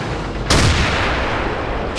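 A tank gun fires in World of Tanks during a clan war battle, one sudden loud blast with a long rumbling tail that rolls on through the rest of the moment.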